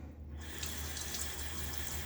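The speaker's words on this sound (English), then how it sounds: "All right, do a little of that rinse I was talking about." Water runs steadily from a bathroom tap during a double-edge razor shave rinse, a close, even hiss with no talking over it.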